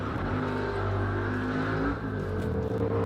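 Ford Capri climbing the Simola hill climb, its engine holding a loud, steady, harmonic roar close by with slight shifts in pitch and no voices over it.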